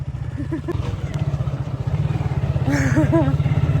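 A new motorcycle pulls up, its engine thudding in a fast, regular idle that grows louder and closer, while people talk and exclaim over it.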